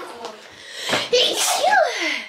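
A girl sneezes once, loud and close, with a quick intake of breath before it, indoors at home.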